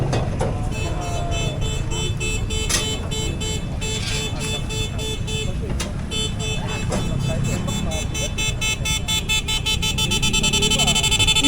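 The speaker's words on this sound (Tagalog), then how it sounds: "Naingit ako sa mga ganong busina eh." A motorcycle horn being tested among newly acquired motorcycle parts and accessories, sounding as a loud, sustained, multi-tone electronic honk that wavers and repeats across the whole stretch, with voices faintly beneath it.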